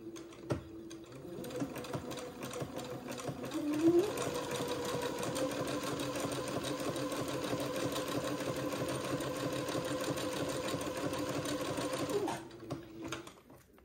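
Sewing machine stitching a zigzag finish on baby layette fabric, a steady, close mechanical whir running continuously for about ten seconds before stopping.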